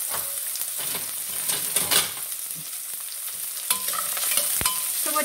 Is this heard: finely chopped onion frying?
yes